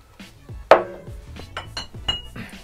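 Whisky glasses clink on a tasting table as another glass is set down: one sharp, bright clink followed by several lighter glass knocks and taps at close range.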